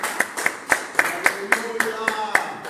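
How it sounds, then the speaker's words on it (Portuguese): An evangelical church congregation in Olhão, Portugal claps in praise during worship, sharp claps falling in a steady beat about four per second, with a voice singing or speaking underneath. "As palmas que louvam e engrandecem o nome do Senhor."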